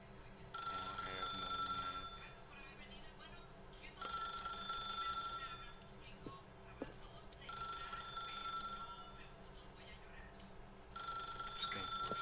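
A telephone rings repeatedly in the video game The Stanley Parable, with four evenly spaced bursts of ringing over a steady background hum and faint talk.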